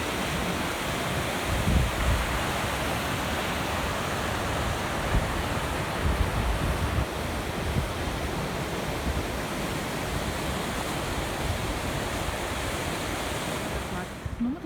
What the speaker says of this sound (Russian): сейчас там водопад, туда идем